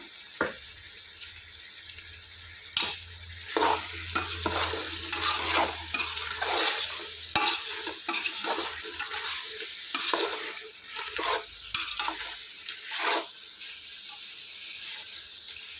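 Tomatoes and chili powder stirred in a hot pan, with a soft sizzle under repeated scraping and clanking strokes of a spoon, close and moderately loud, with pauses between bursts of stirring.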